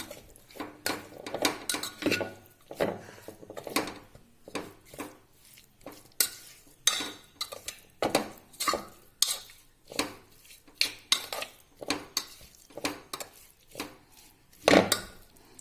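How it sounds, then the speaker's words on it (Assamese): Mutton pickle mixture with turmeric and salt stirred by hand in a metal pot or cooker, a long run of repeated scraping clinks and soft knocks of the spoon against the vessel, quiet and close, without speech. "এয়া দি পেলাই মই এইখিনি দি এতিয়া ভালকৈ অকণমান মিক্স কৰি ল'ম"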